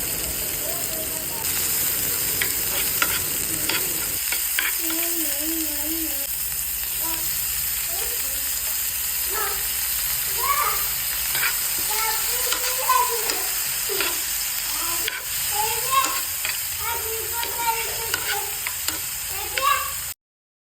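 Curry leaves, garlic cloves and sliced onion fry in a pan while being stirred, giving a steady sizzle with scraping stir strokes throughout, some bursts of crackle, and faint background voices.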